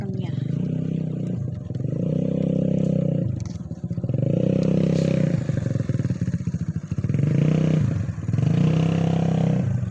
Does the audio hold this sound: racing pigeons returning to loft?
no